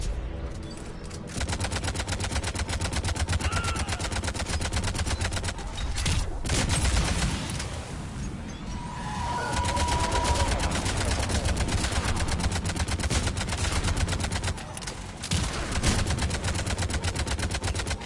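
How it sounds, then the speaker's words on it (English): Harvesters fire on Turians in Mass Effect 3, a sustained, loud barrage of rapid gunfire and explosions that runs continuously, with brief dips and renewed bursts. "Harvesters firing on the Turians!"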